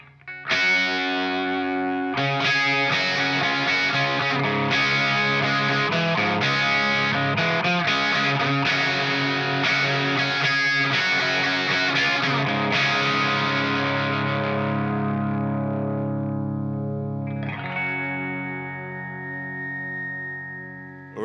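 An electric guitar through a Marshall SV20H amp with EQ feeding a compressor, loud distorted chords and riffs that build, then sustain and decay before a final struck chord rings out.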